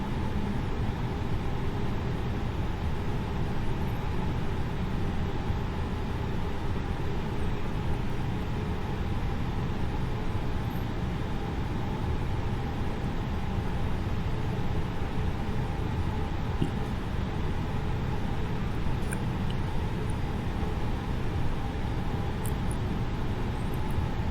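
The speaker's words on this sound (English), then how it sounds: "add engine power and get lined up with the runway for takeoff." An Airbus A320neo in Microsoft Flight Simulator 2020 sits on the runway with its engines spooling, a steady, unbroken broadband roar and hum that holds at an even level throughout, with no talking.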